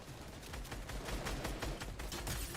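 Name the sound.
gunfire from other teams in a video game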